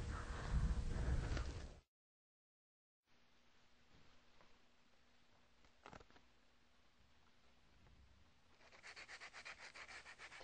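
Dry, gritty sandpaper rubbing over primer on a model rocket body, with short scratchy bursts broken by a pause and quieter soft strokes, close and fairly faint.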